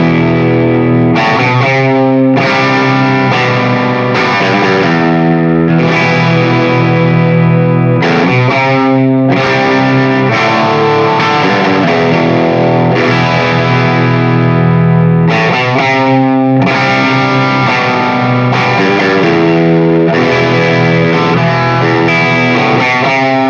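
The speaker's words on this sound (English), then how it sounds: "Here's a little bit of the, like the Noble's ODR1 sound out of the Brown Protein." Electric guitar played through a Dr. Z Maz 18 amp driven by a Nobels ODR-1 overdrive, giving a loud, steady, distorted tone of sustained chords and riffs with short breaks between phrases and no talking.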